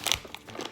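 A plastic bag crinkles and rustles in a few quick, close bursts while someone struggles to open it in a kitchen.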